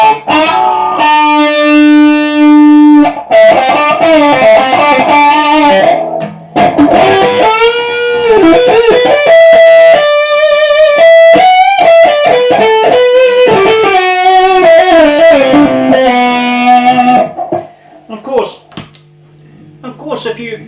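An electric guitar runs through a Fulltone WahFull fixed wah pedal set to Jimmy mode with amp drive, playing loud, continuous distorted chords and lead lines with a vocal, mid-heavy honk that fade near the end.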